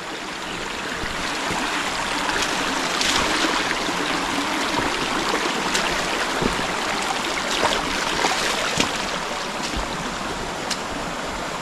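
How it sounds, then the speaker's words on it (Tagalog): A creek after heavy rain, flowing gently along its bank, makes a steady rushing and trickling sound, close and continuous, with no one talking. "Yung gilid ng sapa, hindi po masyadong malakas yung tubig."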